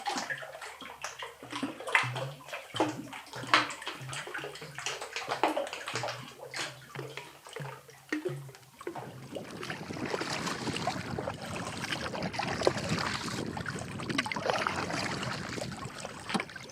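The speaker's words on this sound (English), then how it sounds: "The water slapping in here is making a perfect drumming sound too." Water on an inland lake slaps and drums against the rocky shore in a wilderness park. The sound is a steady, close, rhythmic sloshing with irregular knocks, and it grows denser and more continuous in the second half.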